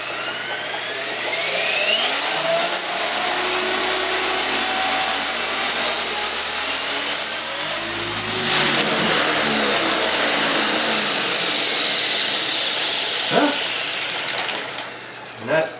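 Hobbyking HK450 RC helicopter, a T-Rex 450 clone, spooling up as the electric motor whine rises steadily in pitch to a loud sustained rotor drone, with a couple of knocks near the end.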